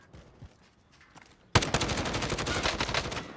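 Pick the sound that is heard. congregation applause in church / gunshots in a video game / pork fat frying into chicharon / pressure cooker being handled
gunshots in a video game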